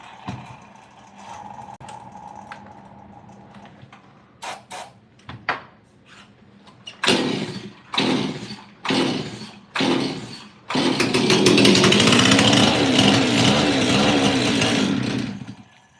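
Stihl 026 chainsaw, a faulty saw that struggles to run, pulled over in a series of short bursts, then catching and running loud and steady at close range for several seconds.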